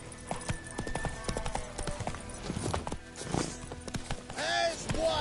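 The horse Roach in a video game, hooves clip-clopping in a quick trotting rhythm close by with a brief whinny near the end, while voices talk over the game sounds.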